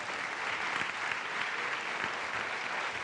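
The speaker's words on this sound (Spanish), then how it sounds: "Un aplauso al Rey." Church congregation applauds the King with steady, dense clapping from many hands that fills the room evenly for the full few seconds, with no talking over it.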